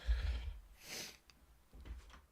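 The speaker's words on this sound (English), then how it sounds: "I gotta blow my nose" A man blows his nose, with a couple of breathy, snorting blasts up close and a short pause between them.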